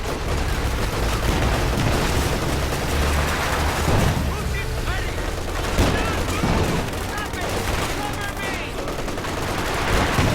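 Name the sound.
gunfire in a video game battle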